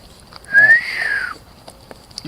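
A person whistles a single rising-then-falling note for under a second, clear and fairly loud against a quiet background, with no talking.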